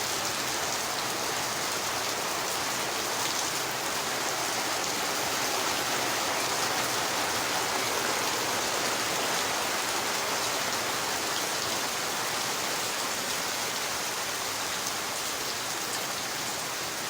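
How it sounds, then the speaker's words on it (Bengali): Heavy rain pours steadily, a dense unbroken hiss of drops drumming on a surface, with water leaking into a room, loud and close throughout with no voices. "এই কিছুক্ষণ হলো বৃষ্টি শুরু হয়েছে"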